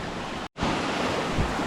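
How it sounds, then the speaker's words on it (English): A waterfall pours onto a woodland track, a steady, broad rushing wash that cuts out for a split second and then carries on, with no voices. "That must be the waterfall we saw up top."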